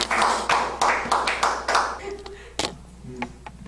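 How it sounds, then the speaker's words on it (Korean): Small audience at a church-style gathering claps in a quick burst of about two seconds with distinct rhythmic hand claps, then fades into scattered taps and light room noise. "박수."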